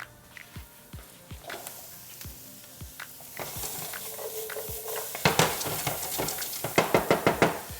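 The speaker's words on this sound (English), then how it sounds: "I'm gonna drizzle a little bit of oil in there because you really wanna hear that noise coming from the pan" Zucchini, garlic and onions sizzling in an oiled frying pan, a bright crackling hiss that swells louder and fuller toward the end, punctuated by regular clicks and taps of a utensil against the pan.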